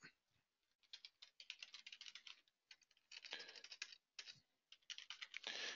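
A password being typed on a computer keyboard, quick bursts of crisp, close key clicks in uneven runs with short pauses between them, quiet and alone.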